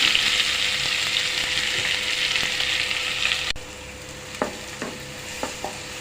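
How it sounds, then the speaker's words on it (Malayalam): Sliced onion, shallots, crushed garlic and green chilli drop into hot oil in a pan for a capsicum thoran and fry with a steady loud sizzle, then quieter stirring scrapes and taps follow near the end. "നമ്മൾ അരിഞ്ഞ് വെച്ചിരിക്കുന്ന സവോള അതേപോലെ ചുവന്നുള്ളിയും വെളുത്തുള്ളിയും ചതച്ചത് പച്ചമുളകും കൂടി ചതച്ചത് എല്ലാം ഇതിലേക്ക് നമുക്കിടാം"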